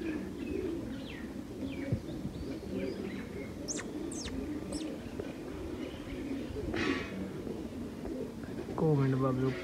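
Pigeons at a rooftop loft, soft cooing and a few chirps over steady background noise, with a louder burst of calls near the end.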